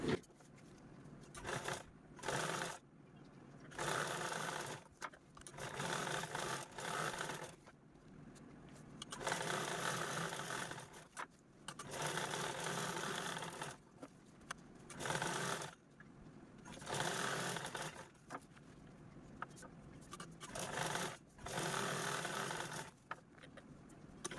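Sewing machine quilting fabric for a handbag, running in repeated bursts of steady rapid stitching separated by short pauses.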